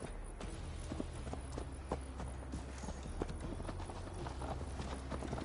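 Horse hooves clip-clop steadily on a ride in Assassin's Creed Valhalla, a quick even gait close up over a constant bed of ambient game sound.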